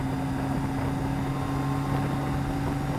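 A motorcycle engine runs at speed on the Mallory Park race track, a loud, continuous droning roar that holds a steady pitch with no voices.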